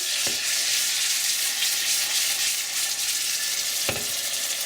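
Dried chilies and coconut frying with garlic in a pan, a steady low hiss of oil with two brief clinks of a spoon.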